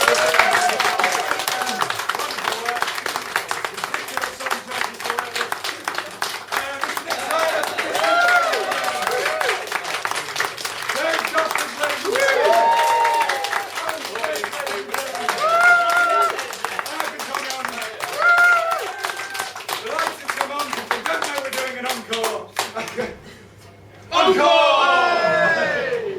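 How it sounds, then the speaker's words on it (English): Applause and cheering from an evening quiz-night audience, a dense continuous patter of clapping mixed with whoops and shouting voices, loud and close, breaking off briefly near the end before resuming. "round of applause for everybody who's here this evening"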